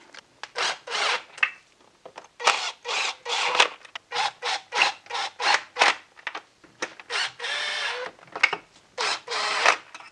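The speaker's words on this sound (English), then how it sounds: "I'm just running them down with my impact ratchet first" An impact ratchet runs down 11mm nuts on a BMW E46 330i/325i during crankcase ventilation and intake reassembly, giving many short, close, rattling bursts in quick succession with brief pauses between them, and no speech.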